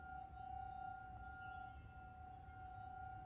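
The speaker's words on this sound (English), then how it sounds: "Like a clinking." Faint glassy clink in the video game The Suicide of Rachel Foster, set against a steady tonal hum and low rumble in a quiet interior.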